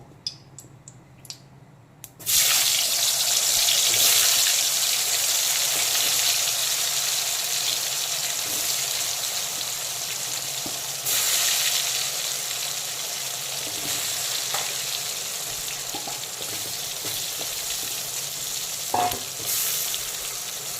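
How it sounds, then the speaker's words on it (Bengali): Turmeric-coated potatoes drop into hot mustard oil for deep frying; after a few small clinks a loud bubbling sizzle erupts and roars on continuously, with occasional stirring scrapes. "আলুগুলোকে প্রথমে ফুল আছে ভালো করে ভেজে নেব, একদম ডুবো তেলে খুব ভালো করে ডিপ ফ্রাই করে নেব।"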